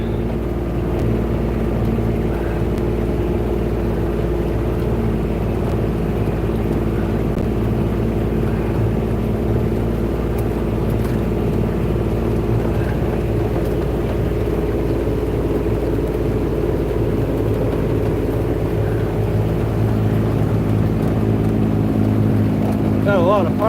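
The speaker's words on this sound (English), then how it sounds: "Diesel's a little noisy, so you can't hear me talk." A noisy diesel vehicle drives along a woodland ride among pine trees, its steady low engine rumble continuous and close throughout, with no break in the drone.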